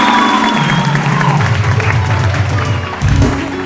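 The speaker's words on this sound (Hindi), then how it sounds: "तालियां बजाओ" Studio audience clapping on a TV morning show, a busy spread of claps mixed with crowd noise and low music or rumble, fairly loud and sustained.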